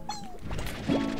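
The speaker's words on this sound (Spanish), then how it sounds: "El slime gato. ¿Veis? El slime gatito." A cat slime in Slime Rancher gives a short, high meow, then a brief lower mew, close and fairly soft over a busy game background.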